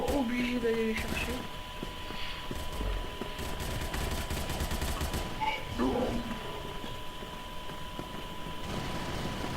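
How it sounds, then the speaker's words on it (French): Gunfire in the video game Crossfire rattles in scattered bursts at mid distance, layered with other game sounds. "Là, j'entends des coups de feu."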